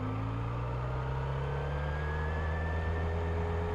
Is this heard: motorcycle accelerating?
yes